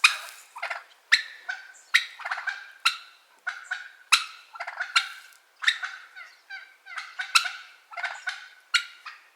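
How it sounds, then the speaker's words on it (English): Wild turkey gobbling on a small farm, a loud, close series of rapid rattling gobbles repeating in quick bursts throughout, with no voices. "A turkey's gobble can be heard up to a mile away"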